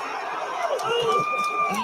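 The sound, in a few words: crowd cheering at NFL draft pick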